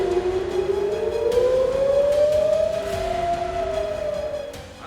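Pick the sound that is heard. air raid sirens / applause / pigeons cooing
air raid sirens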